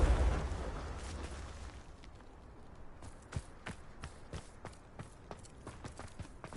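A Confringo fire spell from Hogwarts Legacy blasting rocks, opening with a loud low-heavy explosive burst that decays into rumble, followed by a string of sharp crackling impacts and debris clatter.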